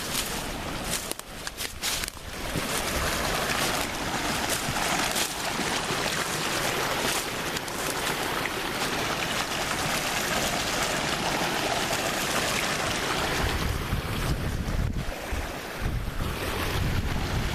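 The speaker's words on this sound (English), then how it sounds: "Now I gotta have fun getting across this creek." A creek flows steadily in the woods. The water gives a constant loud rushing wash with heavy wind buffeting mixed in, and nobody speaks.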